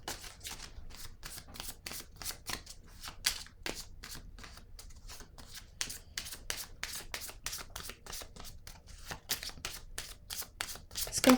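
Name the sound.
tarot cards being handled and laid down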